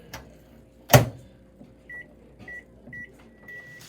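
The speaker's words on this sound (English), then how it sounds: "We're gonna put it in the microwave for about 15 seconds." A microwave oven heats a cracked scrambled egg. A loud close thud like the door shutting comes first, followed by four short, evenly spaced keypad beeps, with no talking.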